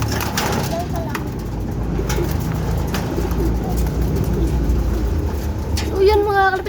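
Pigeons coo softly in low, throaty bursts amid outdoor background noise and passing traffic, while people talk nearby.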